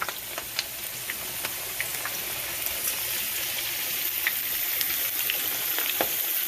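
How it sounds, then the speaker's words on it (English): Bluegill fish fry in hot grease with a dense, continuous sizzle, and scattered pops and spatters crackle through it at close range. "take my spatula or whatever and rake them off into the grease"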